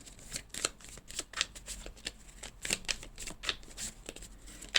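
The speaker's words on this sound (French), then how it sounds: "on va prendre une petite carte chacun" Tarot cards being shuffled and drawn from a deck during a reading, with a steady run of crisp, close papery riffles and flicks, and no talk.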